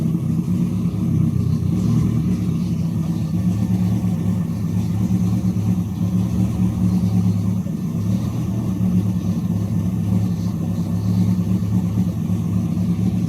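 A drag car engine, freshly repaired after a cracked piston pin and now lightly steaming, idles on its first start-up with a steady, low, throbbing rumble, close and even throughout without any revving or talk.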